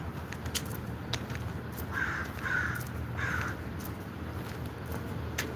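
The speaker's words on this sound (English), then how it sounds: "Shut up, bird." A crow caws three times in a rough, rhythmic series, moderately close, over steady outdoor background noise with no talking.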